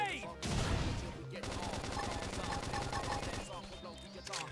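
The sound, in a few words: flame grenade attack in Xenoblade Chronicles video game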